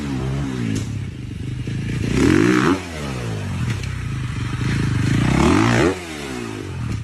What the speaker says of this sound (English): And first, dirt bike stunts.